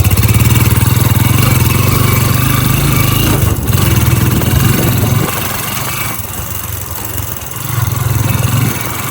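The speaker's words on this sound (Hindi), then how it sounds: "अपने फार्म पे भी बहुत सारा ये काम इसी बाइक से होता है" A motorcycle used for farm work in rural India runs steadily near the microphone, its engine droning loud and continuous with a low throb that eases slightly in the last few seconds.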